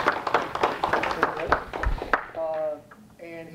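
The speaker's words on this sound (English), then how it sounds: "let's give them a round of applause and thanks for that" Audience applause for dinner sponsors at an evening talk, a burst of clapping from the room that fades out as a single voice begins speaking over it.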